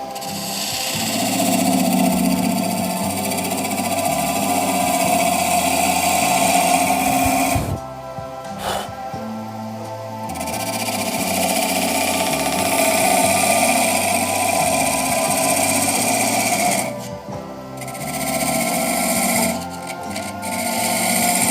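A wood lathe spins an amboyna burl shaving brush handle with a loud, steady motor whine, briefly dropping off twice and then spinning back up.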